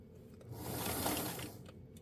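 Home sewing machine running a long basting stitch on a garment, a soft continuous mechanical whir that rises and fades over about a second, close and fairly quiet.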